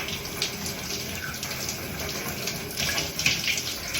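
Steady shower water pouring and splashing in a bathroom, a continuous broadband rush at close range with small surges and spatters, no voices.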